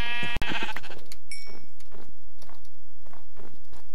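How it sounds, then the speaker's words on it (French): Sheep in the Minecraft video game bleat repeatedly while being killed, a short series of bleats following a sharp hit near the start, with game sound effects in between. "Donc je vais tuer quelques petits moutons."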